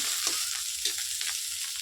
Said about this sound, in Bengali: অল্প একটু নাড়াচাড়া করে ভাজা করে তারপর নামাইলাম